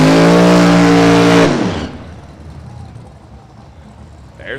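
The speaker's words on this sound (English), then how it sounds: "There's Thomas, supercharged Chevy Nova." A drag racing car, a supercharged Chevy Nova or a turbocharged Fox body Mustang, blasts close and loud with a harmonic engine roar that cuts off sharply after a second and a half, leaving faint rumble and crowd noise behind.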